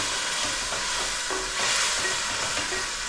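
Egg and dried fish curry with tomatoes frying in hot oil, giving a steady, close sizzle with soft stirring scrapes and no voices.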